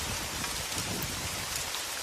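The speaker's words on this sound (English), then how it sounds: "I wouldn't know why it's raining in a lava area." Steady rain pours down over a lava area in a volcano-themed video game, a dense, even hiss that runs unbroken and close with no voices over it.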